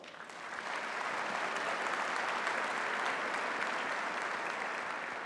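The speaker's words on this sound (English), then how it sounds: "please give them a round of applause" Applause from a university graduation audience for the faculty swells within the first second and then holds as a broad, sustained roar of many clapping hands.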